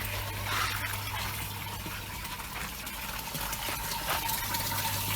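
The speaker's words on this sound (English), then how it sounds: "that's where the air goes through and bubbles away quite madly" Air bubbling vigorously through water in a fish pond, a continuous busy gushing wash over a low steady pump hum, close and constant, no voices.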